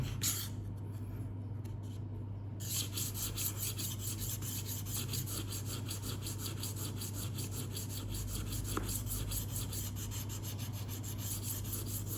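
Knife blade honed against the fine side of a magnetic rolling knife sharpener, a steady soft rasping rub that runs continuously and close, with a faint hum underneath.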